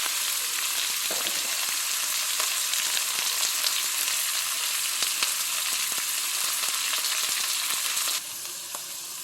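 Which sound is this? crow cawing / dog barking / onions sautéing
onions sautéing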